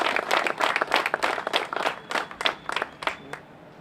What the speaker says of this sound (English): We get a round of applause for them and all their hard work over the past 4 days